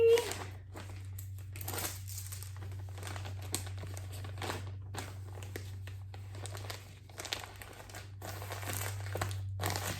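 An item slides into a plastic mailer envelope while packing an order to ship, giving a steady soft crinkling and rustling of the mailer under a low hum, close up.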